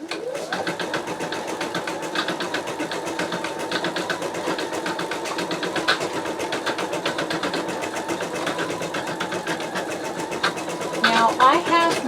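A Sew Tech embroidery machine with a 7x5 magnetic hoop stitches at a slow speed in a steady, continuous mechanical whir with a rapid needle patter, close up and alone, with a brief rise in activity near the end.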